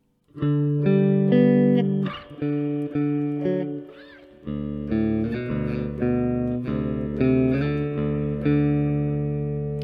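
A twangy Squier Classic Vibe Bass VI, middle and bridge pickups on, plays sustained notes and chords, ringing with bright harmonics, some slides and pauses between phrases.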